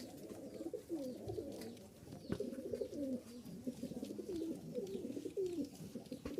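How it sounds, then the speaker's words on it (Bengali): A pair of diamond doves, one a laying hen, coos in soft, overlapping rolling calls close by, repeating steadily throughout with no talking. "এক জোড়া ডায়মন্ড ডাব আছে"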